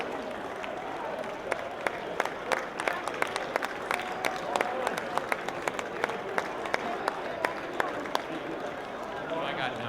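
Crowd at an Honor Flight Columbus welcome applauding a veteran, dense steady clapping with sharp individual claps throughout, under people talking.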